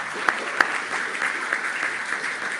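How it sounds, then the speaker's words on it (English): An audience at a public forum gives a round of applause, with steady crowd clapping and a few sharp louder claps near the start. "Give him a round of applause, please."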